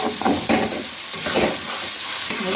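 Taro curry frying in a pan while being stirred, a close sizzle with scraping stir strokes and soft bubbling in an uneven rhythm, with no talking.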